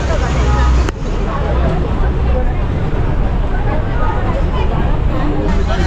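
Crowded bus pulling away, a loud steady engine rumble under dense chatter from packed passengers, the roar holding constant from start to finish after a brief knock near the beginning.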